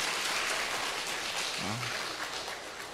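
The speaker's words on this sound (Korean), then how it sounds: "우리 할렐루야 성가대를 위해서 다시 한번 격려의 박수" A church congregation claps to encourage the choir during a Sunday service, a continuous dense patter of applause with a brief voice rising over it midway.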